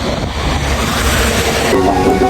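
Loud continuous rushing noise like heavy rain or water pouring, a broad steady roar with a low rumble underneath, close to the microphone.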